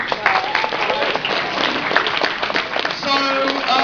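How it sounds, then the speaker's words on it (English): A crowd at a Weston Super Sonic 2017 event applauds an award winner, a steady wash of clapping that carries on throughout, with some talk and cheering mixed in. "Big round of applause"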